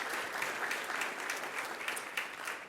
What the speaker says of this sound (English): a round of applause for Centennial High School